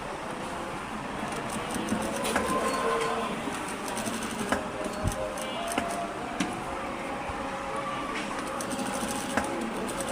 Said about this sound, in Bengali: এইভাবে পুরোটা ঘুরিয়ে ঘুরিয়ে সিলাই দিয়ে নেবেন